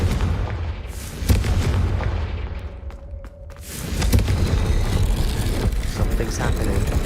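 Confringo blasting spell in a Harry Potter video game: two loud booming blasts, the first sharp burst followed by a short lull and a second heavy rumbling explosion that lingers.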